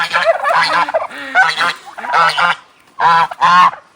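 A goose honks repeatedly in loud, raspy bursts close by, with several calls running together and then two strong separate honks near the end, heard alone in a farmyard.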